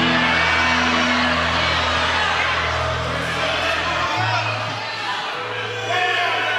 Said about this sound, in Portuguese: dê mais um grito de glória a Jesus